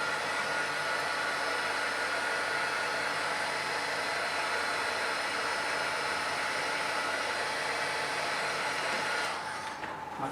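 A hair dryer blows on a Samsung S8 or S9 phone after an ear speaker fix, a loud, steady close roar that holds evenly before easing off at the end.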